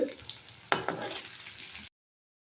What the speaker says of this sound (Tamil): பூண்டு, சின்ன வெங்காயம், ஒரு பச்சை மிளகா, கருணக்கிழங்கு எண்ணெயிலே நல்லா வதக்கிக்கலாம்